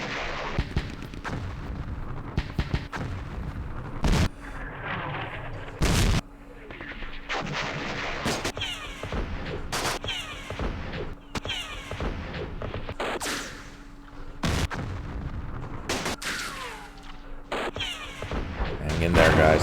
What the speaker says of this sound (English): There's a machine gun back there.